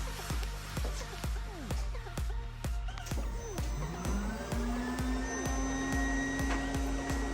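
A Lamborghini Murcielago V12 cold-starts under steady, rapid mechanical ticking, its tone rising and settling into a sustained, loud drone.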